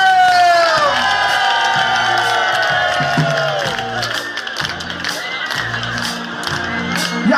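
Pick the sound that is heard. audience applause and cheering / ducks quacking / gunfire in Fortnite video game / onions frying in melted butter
audience applause and cheering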